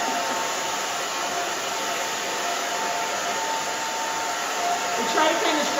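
A hair dryer blows steadily on hair during a salon pixie haircut for a woman over 70, a loud, even, continuous whoosh that holds throughout with no pause.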